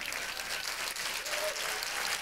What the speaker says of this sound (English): we would ask them to stand so that we can give them a round of applause